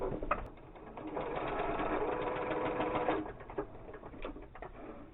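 A sewing machine stitches forward and back across the edge of a coffee filter face mask, whirring steadily for about three seconds before stopping, fairly quiet and close.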